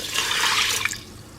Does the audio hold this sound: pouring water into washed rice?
yes